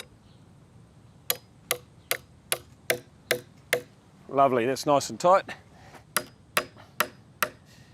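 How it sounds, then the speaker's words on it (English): Metal rebar rods are hammered into holes for a DIY garden border, with a steady run of sharp, ringing hammer strikes nearby, briefly paused while someone speaks. "Now all we're going to do is hammer them into our hole."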